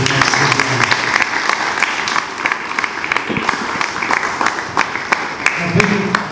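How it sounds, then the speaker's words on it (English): A crowd at an outdoor dog show, the Indonesia Winner Show 2019, gives a big round of applause, loud and close, with individual sharp claps standing out over continuous clapping. "we can give everybody a big round of applause for everybody"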